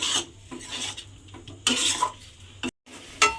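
Spiced potatoes stirred in a pan without oil for an oil-free aloo dum, giving close scraping and rasping bursts of a utensil against the pan, with a brief silent gap near the end and no talking.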